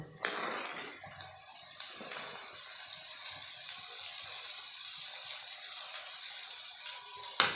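Leafy greens dropped into a hot pan with chopped onion and green chili, setting off a steady broad hiss of sizzling that carries evenly throughout after an initial louder crackle, with no talk.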